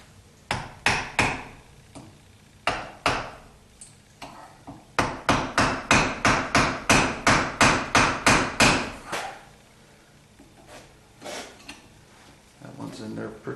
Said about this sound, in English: This might require a little more tapping with the hammer.